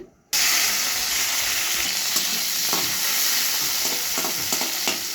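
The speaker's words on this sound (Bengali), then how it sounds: "উচ্ছেটা একটু তেলে ভেজে নেব অল্প, যেন তিত কুটোতে না থাকে।" Bitter gourd frying in a little oil in a pan gives a steady, loud sizzle from start to finish, with a few soft stirring scrapes under it and no voices.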